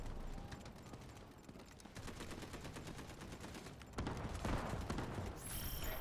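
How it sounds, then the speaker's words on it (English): Artillery barrage in the Delta Force video game: continuous dense rattling gunfire and rapid booming impacts without a break, growing louder and heavier partway through, with no voices. "Artillery barrage incoming."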